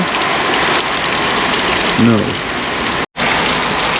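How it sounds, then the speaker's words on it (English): Heavy rain falls steadily outdoors, a loud, dense hiss that continues throughout apart from one brief dropout, with a short voice-like sound partway through. "You can rain all you want to, just lighten up a little bit"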